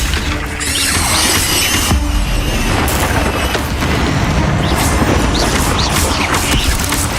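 Incendio fire spell cast in the Hogwarts Legacy video game during a fight with spiders, a loud, dense whooshing blast of flame and crackling impacts that fills the whole stretch, with squeals and crashing game effects layered in.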